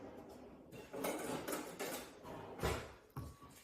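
Sliced apples are tossed with lemon juice in a bowl, making close, irregular clinks and knocks of a utensil against the dish, several sharper taps scattered through the mixing.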